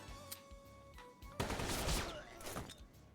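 Rapid gunfire bursts in the tactical video game Metal Slug Tactics, a dense, crackling volley of shots lasting a couple of seconds, moderately loud over game sounds and a faint tone.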